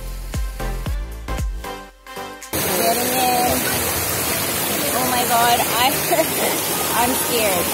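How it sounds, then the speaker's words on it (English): Water rushes and splashes steadily around legs wading through a shallow, cold river in Dalyan, Turkey, after a few sharp knocks at the start, with faint voices underneath. "we're supposed to walk through a very shallow river"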